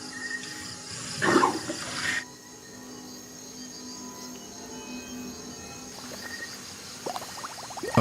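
Several liters of water are poured for Lolong the crocodile to help him swallow a 10-kilo meal, heard as a brief splashing gush followed by quieter trickles and a low background hum.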